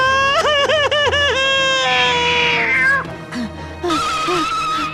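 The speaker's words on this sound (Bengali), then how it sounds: "বিড়ালটা তাই দেখে আরো জোরে ডাকতে থাকে।" A cartoon cat meows loudly and repeatedly, drawn-out wailing calls close by, followed by a few shorter, softer mews.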